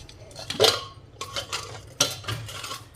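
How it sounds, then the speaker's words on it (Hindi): Metal clinks and scrapes of a pot lid being lifted and handled, a few sharp knocks spread over a couple of seconds in a quiet kitchen. "मैं आपको खोल कर ढक्कन दिखाती हूँ।"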